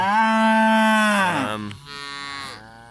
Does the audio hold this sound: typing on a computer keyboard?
no